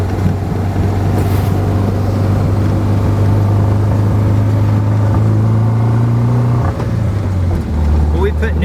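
A 1973 VW Karmann Gia convertible with a rebuilt motor idles steadily up close, a low continuous engine rumble with a slight dip and recovery near the end.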